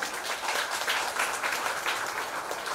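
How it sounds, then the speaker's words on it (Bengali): Applause for a teacher at a felicitation gathering for selected police constable candidates, a dense steady patter of many hands clapping throughout, moderately loud and close. "জয়ন্ত স্যারের জন্য হাততালি হয়েছে।"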